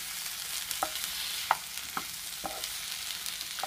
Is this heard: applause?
no